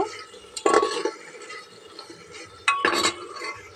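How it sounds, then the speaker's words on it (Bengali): A utensil stirs garlic egg curry in a pan, with two distinct bursts of scraping and clinking against the metal separated by quieter simmering between them. "দেখো বন্ধুরা, এভাবে আমি নেড়ে দেব"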